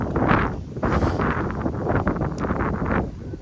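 Strong wind buffets the microphone at Ingliston Gorge in Werribee Gorge State Park, a loud, continuous low roar with gusty surges and no other sounds standing out.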